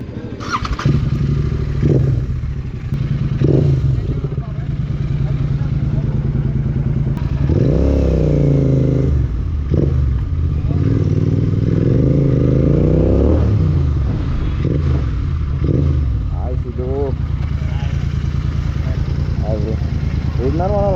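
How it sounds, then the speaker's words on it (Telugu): A motorcycle with its dB killer removed runs loud and close at a steady idle, with repeated sharp throttle revs swelling and falling, while people talk over the engine noise at an auto expo in Hyderabad. "ఇప్పుడు డీబీ కిల్లర్ తీసేసా, ఒకసారి స్టార్ట్ చేద్దాం"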